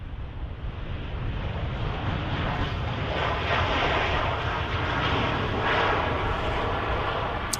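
An Airbus A350 airliner at Manchester Airport gives a steady, loud jet engine roar with broadband rumble and wind buffeting, continuous throughout with no talk.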